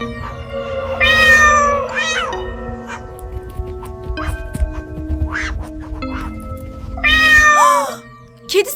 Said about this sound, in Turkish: Ay çığlık çığlığa kedi sesi.